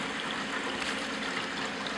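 Gurgling, rushing water-and-air mixture from an aquarium Herbie overflow drain, a steady, moderately faint churning wash with no talking.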